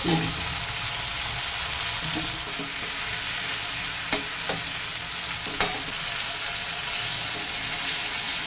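Chicken pieces with fried potatoes stirred in a pan on a steady sizzle, with a few sharp scrapes and clinks of the spoon against the pan, close and moderately loud.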